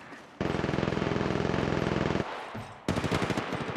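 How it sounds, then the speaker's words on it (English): Loud, close automatic gunfire from the Apex Legends Mobile game comes as a long rapid burst, then a short pause, then another rattling volley of fast repeated shots, with no voices. "They're shooting at me."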